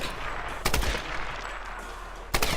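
Two sharp gunshots in the video game Tomb Raider, spaced well apart, over a constant dense rumble of game ambience.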